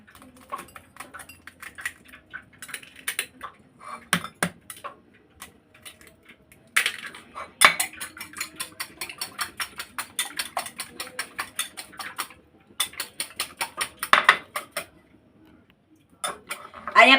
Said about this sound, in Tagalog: Batihin muna natin itong itlog.